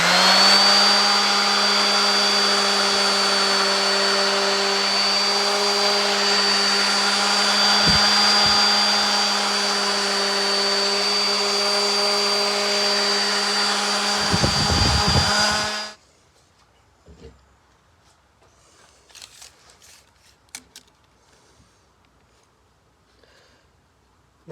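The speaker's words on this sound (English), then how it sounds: "Now a little sanding to clean them up." A power sander drones loudly and steadily for about fifteen seconds on wooden cornhole legs, then cuts off, leaving quiet with a few faint knocks and handling sounds.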